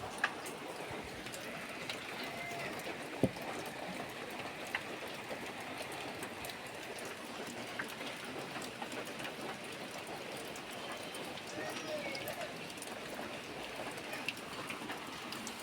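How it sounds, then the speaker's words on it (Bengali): Light rain falls outdoors with a soft, steady patter and scattered faint drips. It stays quiet throughout, with an occasional sharper tap. "দেখো বৃষ্টি হচ্ছে,"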